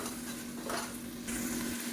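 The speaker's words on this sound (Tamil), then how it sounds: "இப்போ தக்காளி வதங்கட்டும்." Tomatoes sauté in hot oil for mutton biryani with a loud, continuous sizzle, swelling briefly as they are stirred. No voices are heard.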